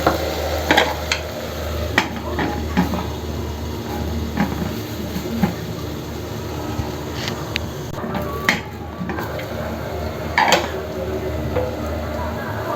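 Onions cooking down in a pan for a desi-style chicken gravy, giving a steady soft sizzle under the periodic scrape and clatter of a spoon stirring, while a voice talks over it at intervals.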